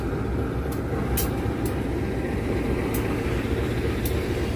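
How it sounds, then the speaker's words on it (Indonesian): A CC201 diesel locomotive idles at Cibatu station, a steady low rumbling drone that holds unchanged throughout, with a few faint, brief high clicks over it. "Ini dia lokomotif lokal CC201."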